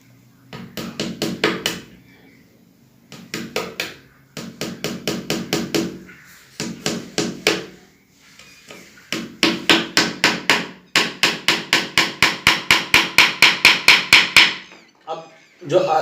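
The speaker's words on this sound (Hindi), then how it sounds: "अब दूसरी कील जो आपको गाड़नी है वो लगातार इसके यहाँ नहीं गाड़नी" Hammer strikes driving nails into a wooden screen printing frame, rapid runs of sharp taps in bursts with short pauses, ending in long steady sequences, close and loud.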